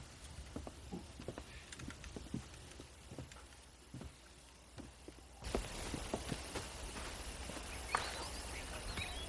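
Horse hooves clip-clop at a walk in a Red Dead Redemption ranch scene, a steady soft patter of footfalls that grows busier and louder partway through over a low outdoor ambience.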